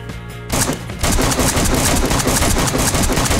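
Loud, rapid bursts of automatic gunfire in the video game DayZ, with dense overlapping shots, continuing steadily after a brief quieter start.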